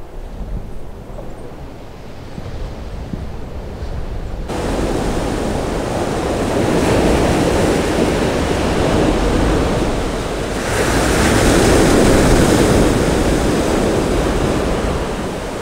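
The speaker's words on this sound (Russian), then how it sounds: "Сегодня шторм, и я хочу сейчас спуститься туда, на пляж." Stormy sea waves roll onto the beach at Simeiz, Crimea, a loud continuous roar of surf that swells after a few seconds and surges again later, with some wind buffeting and no talking.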